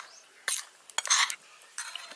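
Flour being stirred into warm dough in an open pan for a Rakhi sweet, heard as a few short scraping and clinking bursts of a utensil against the pan, close and moderately loud with quiet gaps between.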